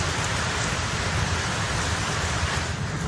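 Heavy rain pours steadily in western France, a dense, even roar of falling water with no pauses, loud and close throughout.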